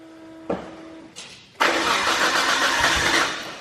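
A single-turbo RB26 car engine, started for the first time, cranks briefly, stutters, then catches and roars to life, settling into a loud, steady run.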